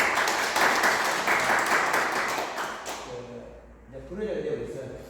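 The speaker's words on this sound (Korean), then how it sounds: "경리차는 우리 박수 한번 해주세요" Audience applause at a farming education session on garlic and onion cultivation, a dense broadband patter of clapping for the first three seconds that fades as talk takes over.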